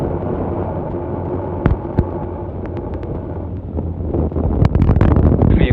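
Falcon 9 rocket lifting off at a launch of the Space Development Agency's Tranche 1 Transport mission, a steady broadband roar with low rumble throughout, swelling louder toward the end with a few sharp crackles.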